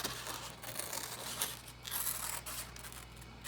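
Scissors snip through paper while cutting out a simple octopus shape for a children's craft, a steady run of close, soft crisp cuts and crinkles with no talking.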